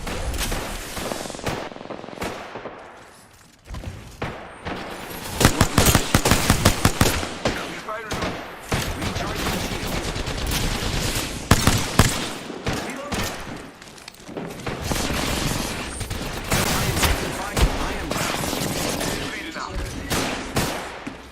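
Heavy video game gunfire keeps up throughout: dense automatic bursts, sharp individual shots and occasional thumps, loud and close, with brief lulls between the volleys.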